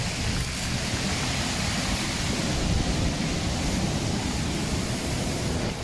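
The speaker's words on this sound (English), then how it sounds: "I'm here scared by the waves." Wild ocean surf crashing on the rocky shore below the Kamiiso torii at Oarai, a dense, steady roar of breaking waves close by, with no voices over it.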